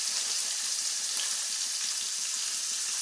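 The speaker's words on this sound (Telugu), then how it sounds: "ఆనియన్స్, ఆనియన్స్ ఫ్రై అవుతున్నాయి." Onions frying in a pan with a pinch of salt, giving a steady, dense sizzle that holds evenly close up for the whole stretch, with no voices.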